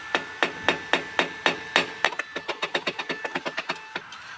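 A centre punch is tapped repeatedly against metal to mark a drilling spot while fitting an e-bike battery: about twenty sharp, close metallic taps, slower and heavier at first, then quicker and lighter, with no voices.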